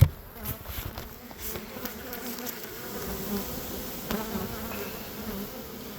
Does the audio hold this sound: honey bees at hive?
yes